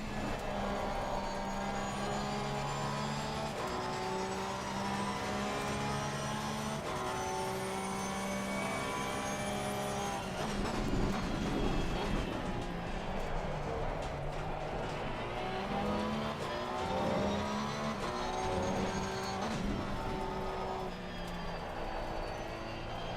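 Race car engines in a racing video game at Barcelona, with a Porsche close behind, making a steady, loud, droning whine whose pitch rises and falls through gear changes, with no talk over it.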